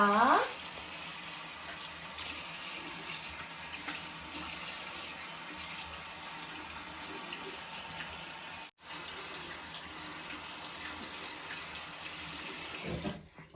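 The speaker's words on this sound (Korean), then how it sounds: "이제 헹굴게요." Water runs steadily from a tap while a baby is rinsed, a constant close rush lasting over ten seconds with a brief cut midway and splashy bursts at the start and end.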